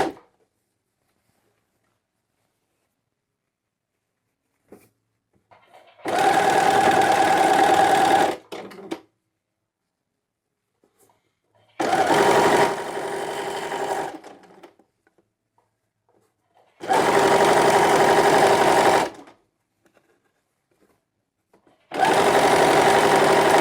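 A sewing machine stitching a child's pajamas runs in four loud, close bursts of a few seconds each, a steady whirring hum with fast needle chatter, separated by near silence.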